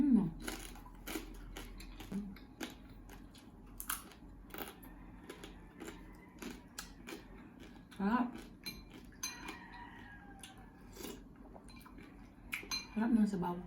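Spoons and forks clink against bowls and plates during a meal of sinigang na bangus with vegetables and dumplings, scattered sharp taps and scrapes close by, with faint talk in between.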